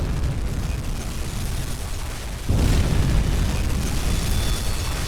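Torpedo hits explode against a destroyer in a World War II U-boat game, a sudden heavy boom cutting in midway over a dense, loud roar of sea and battle noise.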